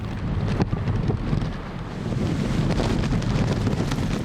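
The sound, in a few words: strong wind gusts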